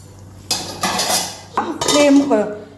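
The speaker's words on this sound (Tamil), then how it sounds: "நம்ம இந்த லிட்டை போட்டு கொஞ்சம் மூடிடலாம்" A metal lid being set onto a cooking pot of semiya kichadi. Close, bright clattering bursts of metal on metal come in three short rounds, with no talk.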